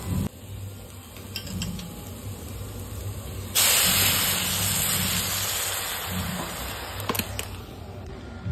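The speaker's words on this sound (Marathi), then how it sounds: "त्याच्यामध्ये आपण दूध टाकून घेऊया।" Milk poured into a pan of roasted, fried sweet potato for kheer gives a sudden broad wet hiss and splash that swells partway through and holds steady, over a low stove hum, with no talking.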